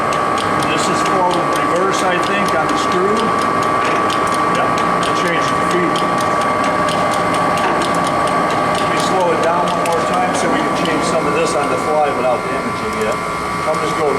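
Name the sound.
Ryazan Stanko 16K40 heavy duty engine lathe running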